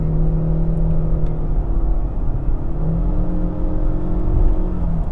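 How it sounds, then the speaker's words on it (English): A Ford Mondeo ST Line Edition Hybrid's engine hums steadily and rises in pitch as it accelerates, heard from inside the car with a constant low rumble. "So we'll accelerate now."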